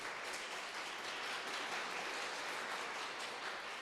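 A church congregation applauds during a Sunday service, producing a dense, even wash of clapping that is faint and distant and lasts a few seconds, with no voices.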